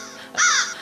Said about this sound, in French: ou par exemple les corbeaux aussi.